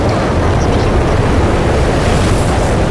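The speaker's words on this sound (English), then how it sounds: "I am going to have to turn my exhaust fan on, and it's so freaking loud it sounds like a NASA rocket launching." Loud kitchen exhaust fan roaring while potatoes fry, a dense, steady broadband rush close to the microphone, unbroken and without talk.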